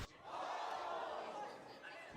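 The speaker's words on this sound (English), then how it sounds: "I like the reacts that they get from the crowd." Esports arena crowd at a Valorant match erupting in a short loud swell of cheering and shouting, held briefly and then easing off slightly.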